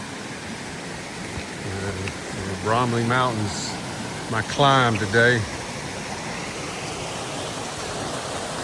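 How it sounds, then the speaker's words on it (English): A mountain brook at Bromley Mountain on the Appalachian Trail rushes in a steady, broad hiss throughout, with someone speaking briefly over the flowing water. "Bromley Brook."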